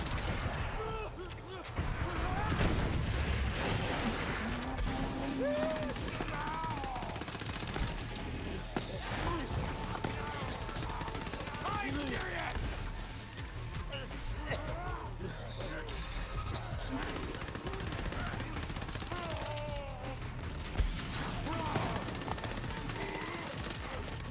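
Rapid gunfire from the Borderlands 3 video game, with Zane blasting enemies in Mayhem 3 combat, bursts and impacts crackling repeatedly under a steady game soundscape as a voice talks over much of it.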